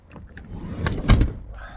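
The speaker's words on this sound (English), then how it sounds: "I'll come out the slide door." A camper van's sliding door being opened from inside, with soft rustling followed by a few sharp metallic clunks and a rolling slide near the end, close and fairly loud.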